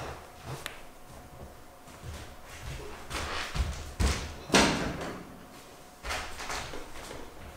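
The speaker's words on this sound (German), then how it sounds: "ich sollte mal die Tür zumachen, ne?" An indoor door in a warm room with the window open is pushed shut, with footsteps and shuffling followed by a solid latch thump and a softer knock afterward, all close by with no talking.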